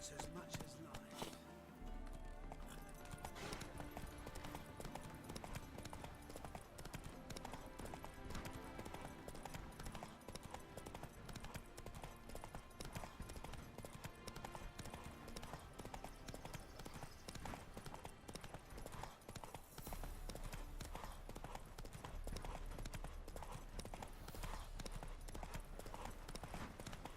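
Horse hooves clip-clop at a steady trot through The Witcher 3: Wild Hunt, with a continuous game music and ambience bed loud throughout and a voice speaking over it.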